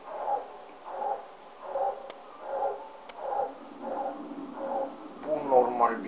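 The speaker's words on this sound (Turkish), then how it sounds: "Bu normal bir havlama değil." A dog gives a series of about eight evenly spaced, mournful bark-howls, fairly faint and steady, ending with a higher whining cry.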